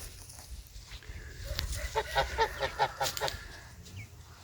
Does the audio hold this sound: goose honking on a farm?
yes